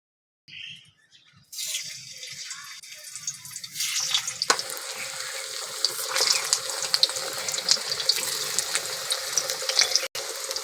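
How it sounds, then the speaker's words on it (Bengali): Potato pieces frying in hot mustard oil for a thin mutton curry, a steady bright sizzle that starts abruptly and keeps going, loud and close, with no voices over it. "আলুগুলো লাল লাল করে ভেজে নেব"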